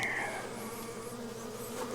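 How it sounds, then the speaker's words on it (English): A swarm of calm honey bees buzzes steadily and close by, with a dense continuous hum and a few individual bees passing nearer the microphone, no voices. "See how they're kind of flying"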